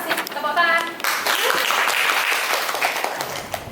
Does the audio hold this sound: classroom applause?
yes